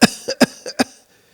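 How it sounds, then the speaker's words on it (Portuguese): Five sharp coughs in quick succession, a paroxysmal run of harsh bursts at even spacing over about a second, close and loud, then silence. "temos também a tosse paroxística, que é uma tosse que vem de seguida,"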